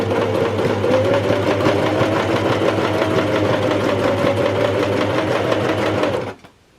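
A sewing machine stitches pyjama bottoms in one steady, continuous run with a constant motor hum and rapid needle chatter, close and loud, then stops abruptly near the end.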